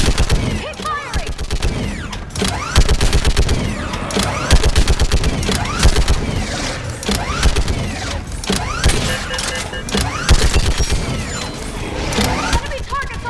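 Sustained gunfire in a Mass Effect video game battle, loud and continuous, with overlapping rapid shots, impacts and mechanical clatter throughout, under shouted voices.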